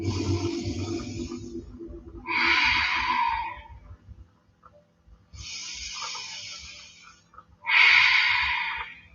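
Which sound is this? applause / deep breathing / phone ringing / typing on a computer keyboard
deep breathing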